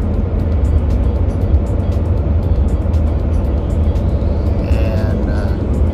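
A car cruises along a highway near Mount Shasta, with a steady, loud road and engine rumble filling the whole stretch and no break in the noise.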